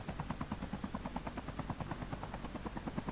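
A helicopter in the mobile game Call of Duty Mobile gives off a loud, continuous, rapid rotor chop that pulses evenly throughout with no talking over it.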